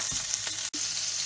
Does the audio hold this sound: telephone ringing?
no